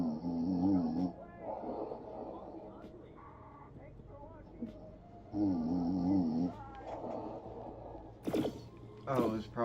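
A character in the video game High On Life snores loudly in two long rattling breaths a few seconds apart, with game voices talking in between.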